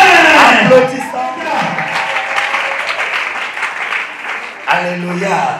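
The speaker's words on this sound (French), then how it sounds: "Applaudissons." A church congregation applauds and cheers after a sermon, lively clapping and shouts mixed with a voice and music that dip and then swell again near the end.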